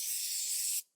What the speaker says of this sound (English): I like to just use some silicone spray with it